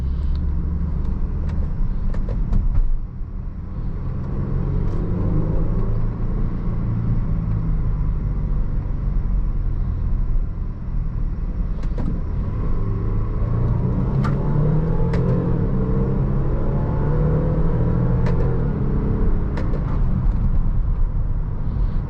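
A 2016 Range Rover Sport HSE driving on the road, with a steady low engine and road rumble throughout and slight shifts in tone as it downshifts, heard from inside the cabin.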